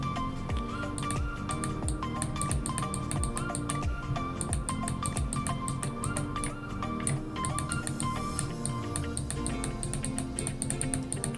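Computer keyboard typing while drafting in AutoCAD, a continuous patter of quick key clicks in uneven bursts, close and fairly soft, with no voice.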